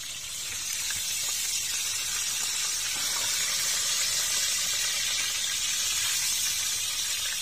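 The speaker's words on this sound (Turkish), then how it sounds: "Evet balıklarımız mis gibi kızardı" Cornmeal-coated fish sizzle in hot oil with a steady, dense, hissing crackle that holds at an even level throughout, with no voices over it.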